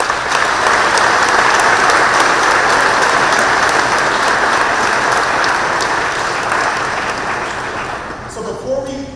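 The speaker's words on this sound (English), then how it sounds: "Let's give you a round of applause." An audience at a fifth grade promotion ceremony gives loud, sustained applause and cheering. The clapping holds steady for several seconds, then thins out and fades near the end.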